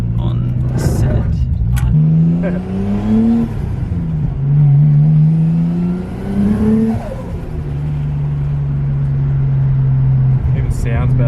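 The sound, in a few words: Nissan Skyline engine revving with boost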